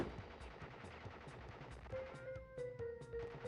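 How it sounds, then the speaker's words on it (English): Rapid Tommy gun fire from the gangster boss Pinstripe in the PS1 Crash Bandicoot game, repeated bursts of shots with steady game music tones coming in partway through. "hide behind the furniture when PINSTRIPE starts to fire his Tommy gun"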